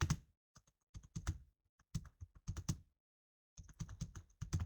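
Bursts of typing on a computer keyboard while entering an Excel XLOOKUP formula, quick clustered keystrokes in several runs separated by short pauses, close and clear with no talking.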